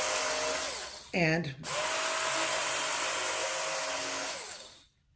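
A Worksharp belt knife and tool sharpener grinds a blade edge, making a loud, steady motor whir. The pitch dips briefly as the edge drags across the belt, then the whir runs on and cuts off at the end.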